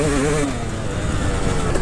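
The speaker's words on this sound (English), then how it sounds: "There's nothing else like being on the pipe on the two-stroke." A two-stroke dirt bike engine holds a loud, raspy high rev right up close, droning steadily on the pipe.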